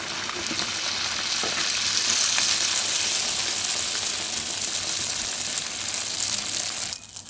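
Rice flour kachori frying in hot oil, a strong bubbling sizzle that swells as the dough goes in, stays steady and close, then quickly drops away near the end, with no voices.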